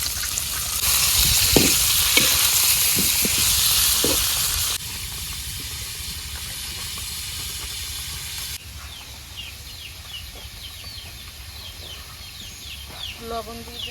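Oil sizzles loudly in a village kitchen wok, a steady broadband hiss with occasional clatters, which later drops to a quieter simmer while birds chirp in the background.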